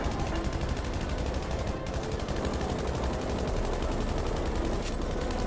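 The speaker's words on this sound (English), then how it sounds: "Gonna switch to my machine gun here and slip them out." Machine gun fire in Battlefield 5 rattles in a dense, continuous stream of rapid shots, loud and close, with a brief pause near two seconds before the burst resumes; no talk.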